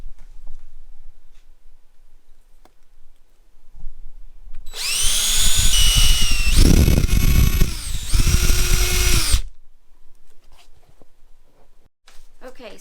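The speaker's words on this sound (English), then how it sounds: "now we can go through and can finish off drilling all the way through" A power drill bores all the way through an SW Motech tank bag mount on a Kawasaki Z650 motorcycle, a loud whining burst lasting about five seconds with a brief dip in the middle, set between quieter handling noises.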